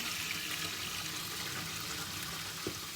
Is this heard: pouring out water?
yes